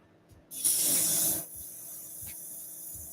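An airbrush spraying water through it for cleaning gives one short, sharp hiss lasting about a second, then falls to a faint steady background.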